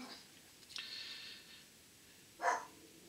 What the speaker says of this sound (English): Oh, that's the wee doggy.